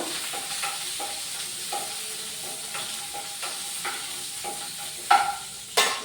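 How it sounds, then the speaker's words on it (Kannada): Green chillies sautéing in a little oil in a pan for a mutton green gravy, with a steady soft sizzle, occasional stirring scrapes and two sharper bursts near the end. "ಇವಾಗ ನಾನು ಅರ್ಧ ಸ್ಪೂನ್ ಎಣ್ಣೆ ಹಾಕಿದ್ದೇನೆ ಹಾಗೆ ಒಂದು ನಾಲ್ಕು ಹಸಿಮೆಣಸಿನಕಾಯಿ ಹಾಕ್ತಾ ಇದ್ದೀನಿ ಸ್ವಲ್ಪ ಬಾಡಬೇಕು"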